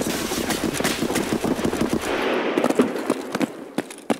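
Blind gunfire in a shooter video game, a rapid volley of loud, crackling automatic shots fired close by, bursts rattling steadily before thinning into a few separate sharp shots.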